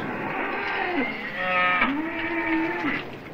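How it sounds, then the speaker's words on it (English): Cattle moo nearby, two drawn-out, low bellowing calls one after the other, with no talking. "The cattle are getting restless."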